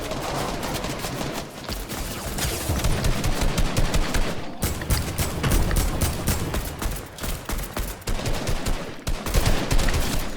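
Video game gunfire in rapid bursts, dense machine-gun rattling and single shots firing almost continuously, loud and close with brief gaps, no talk over it.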